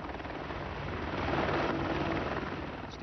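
A US Army AH-64A Apache attack helicopter gives a loud, continuous roar of rotor and engine that holds steady and close for the whole stretch, with no one talking.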